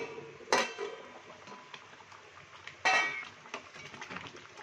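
A lid comes off a pot of simmering dal chicken with two sharp metallic clanks, followed by a soft bubbling sizzle and light clinks of cookware at a fairly low level.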